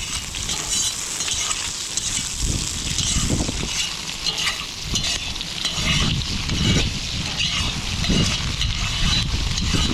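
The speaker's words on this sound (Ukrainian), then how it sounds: "Тепер це все гарно обжаруємо." Onion frying in oil inside an Uzbek kazan being seasoned before first use, a steady broad sizzle with occasional stirring scrapes and swells, fairly close and continuous with no talk.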